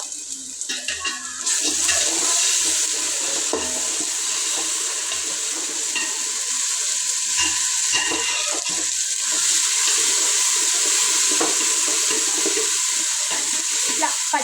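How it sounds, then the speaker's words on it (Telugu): Ginger garlic paste stirred and frying in a pan for a festival home meal, a steady broadband sizzle with scraping stir sounds throughout, no talk. "అల్లం వెల్లుల్లి పేస్ట్ ఇదైతే ఒకసారి కలిపేస్తాను"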